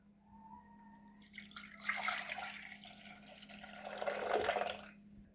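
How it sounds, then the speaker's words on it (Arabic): Milk is poured into a cooking pot, a soft splashing and trickling that swells twice, faint and close, with no voices. "الكاسرونه ديالي غادي نديرو الحليب"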